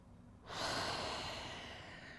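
During a yin yoga class, one deep, close breath sweeps in and slowly releases, a soft airy rush that fades gradually.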